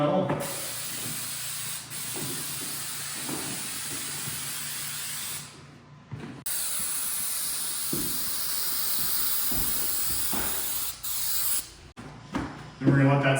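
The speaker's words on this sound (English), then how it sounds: "Then we'll also spray the corner metal." Spray adhesive hisses in long, steady, loud bursts onto metal drywall corner bead, with short pauses between passes and faint background noise in the gaps.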